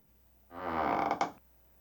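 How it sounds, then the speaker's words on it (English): A single drawn-out wooden creak recorded as a foley effect for drama, close and fairly quiet, groaning for about a second and ending in a small sharp crack. "I had another wooden creak, but a different kind"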